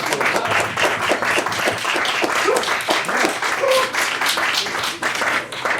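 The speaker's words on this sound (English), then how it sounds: "Let's give a round of applause." At a cabaret show, a small audience gives a round of applause. Separate hand claps stand out in a lively rhythm, and the clapping tapers off slightly toward the end.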